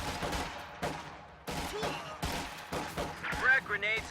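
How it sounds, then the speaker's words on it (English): Gunfire crackles in repeated bursts of shots in a strategy video game, mixed with game voices and other battle effects, and grows denser and louder toward the end. "We're taking fire."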